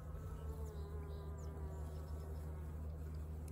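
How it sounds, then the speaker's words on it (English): Bees buzz in a steady, faint hum inside a beehive where a young bee is hatching, with a continuous low drone throughout. "That is a baby bee trying to hatch"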